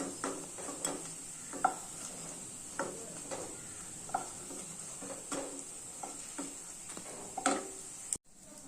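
Faint scraping and soft sizzling of a wheat flour and potato snack in a dry pan without oil over medium heat, with intermittent light taps of a utensil stirring, steady and close.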